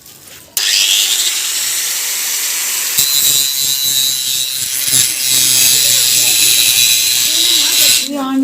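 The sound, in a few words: grinder cutting bicycle part to loosen chain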